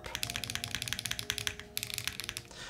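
Fast typing on a custom mechanical keyboard fitted with HMX switches, a quick run of bright, sharp, clacky keystrokes close to the microphone with a short pause midway, no talking.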